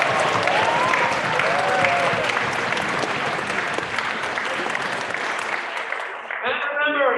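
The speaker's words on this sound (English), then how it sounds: "Everybody, round of applause one more time." A winter festival audience applauds the band with a loud, sustained wash of clapping and some cheering. The clapping thins near the end as a voice starts speaking.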